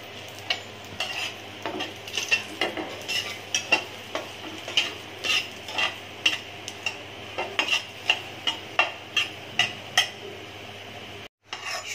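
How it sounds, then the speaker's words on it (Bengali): Dried red chillies fry in oil in a pan with a soft sizzle, punctuated by a steady run of sharp clinks and scrapes from a utensil stirring against the pan. "এখন আমি শুকনো মরিচটা বেজে নেব।"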